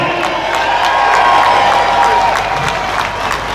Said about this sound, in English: Give a round of applause for the pledge if you've signed it.